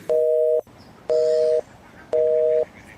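A telephone busy tone after a call is hung up: three loud, identical steady beeps, each about half a second long with equal pauses between them, standing alone with no talk.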